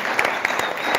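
Concert audience in a small hall in Balsareny clapping together, a dense, steady burst of applause held at an even level from start to finish.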